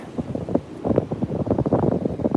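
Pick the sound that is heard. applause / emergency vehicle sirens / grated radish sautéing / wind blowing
wind blowing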